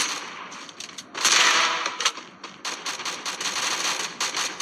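Sniper gunfire in a video game comes as sharp, loud cracks, one heavy burst early followed by a run of quicker shots and mechanical clatter, with no talking.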